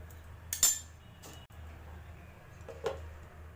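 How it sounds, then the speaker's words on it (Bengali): A spoon scrapes and clinks in a pan of bitter gourd being stirred on a gas stove, then a lid is set down with a metallic clatter. A few soft, quiet knocks and scrapes over a low hum, with no speech. "ভালো করে একটু নাড়াচাড়া করে পুনরায় আমি আবার একটু ঢাকনা দিয়ে দেবো।"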